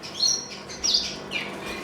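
Cock birds in a breeder's flight cage give three bright, high chirps spaced under a second apart, close and fairly clear against a quiet indoor birdroom.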